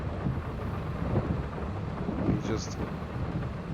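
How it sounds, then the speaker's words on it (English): Rain and thunder in a farming video game on the Edge Farms map: a steady, dense rain hiss with low rolling rumbles running the whole time, with a short burst of speech over it. "we'll wait for the rain to pass over"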